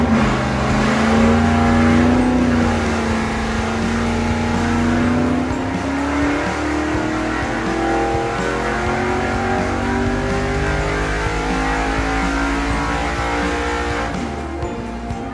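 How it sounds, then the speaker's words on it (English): A 406 cubic inch nitrous small-block Chevy street engine makes a loud, sustained full-throttle pull on a dyno, its roaring pitch climbing steadily before easing off near the end. "put some timing in it, and got the engine ready to make another pull."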